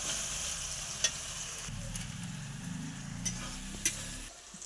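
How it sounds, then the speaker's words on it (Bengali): Chicken with green chillies sizzling steadily on a clay stove, a soft continuous fry with a few sharp clicks and pops, no one talking. "তো বন্ধুরা এই যে কাঁচা লঙ্কা দিয়ে চিকেন রান্না হচ্ছে।"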